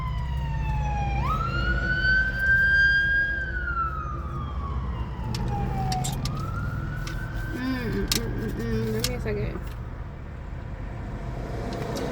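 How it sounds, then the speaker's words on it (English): A wailing emergency siren rises and falls in long sweeps, loud and nearby, with road noise underneath and a second siren tone joining midway. "You hear these sirens?"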